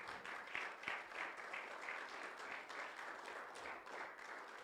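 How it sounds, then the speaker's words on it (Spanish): A church congregation claps for the Lord Jesus Christ during a Spanish-language sermon, a steady wash of applause from many hands that holds evenly from start to finish with no talk over it. "Denle un aplauso al Señor Jesucristo"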